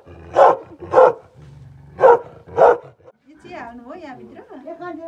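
A Bhote dog in a Nepali village gives four loud, close barks in two pairs, then a person talks over light background sound.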